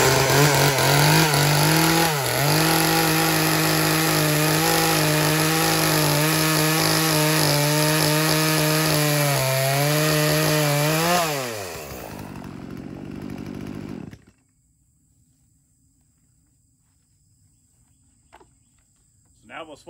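A gas chainsaw roars steadily and loudly while cutting wood, its pitch dipping as the chain bites. It then drops to a sputtering idle, cuts off, and leaves near silence.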